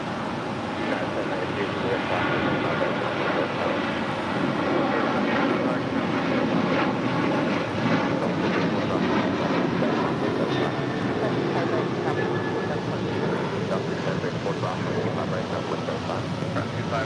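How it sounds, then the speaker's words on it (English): United Airlines Flight 1621, a Boeing 737-900ER bound for Orlando, roars steadily at LAX, a loud broadband jet engine rumble holding across the whole stretch with no break. "That was United Airlines Flight 1621 heading to Orlando, Florida"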